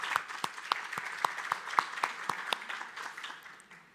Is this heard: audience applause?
yes